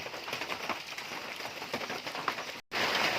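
Steady, dense patter of rain on a surface, broadband and continuous, with a brief dropout near the end before the hiss resumes, heard outdoors while hunting frogs in the rain.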